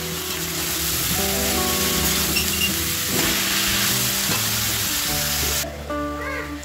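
Fried potatoes drop into a pan of cabbage for Bengali bandhakopi ghonto, setting off a loud, steady sizzle that fills the whole stretch before easing off at the end, with faint talk beneath.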